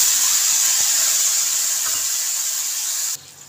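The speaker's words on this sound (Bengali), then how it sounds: "এটা আমি ভেজে নেব, তেলে দিয়ে দেবো" Onion, ginger and garlic frying in hot oil, a steady bright hiss of sizzling that holds loud and even for about three seconds before suddenly dropping away.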